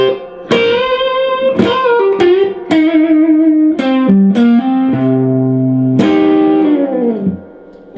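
Distorted electric guitar playing classic rock bending licks, a string of picked notes with pitch bends and sustained vibrato, close and loud with no talk.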